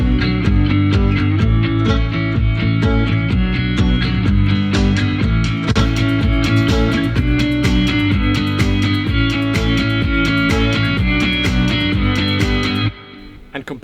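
Kick drum treated with the Waves Smack Attack plugin, punching a steady four-on-the-floor beat through a dense, loud electronic mix with synths, dropping out abruptly near the end.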